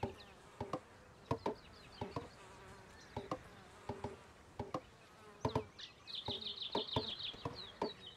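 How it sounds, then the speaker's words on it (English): Bees buzz in the video game Kingdom Two Crowns, with repeated sharp clicking pulses and a brief higher buzzing flutter near the end. The sounds are fairly clear and close, with no speech. "Oh, that's the bees up there. I was wondering what was making that buzzing sound."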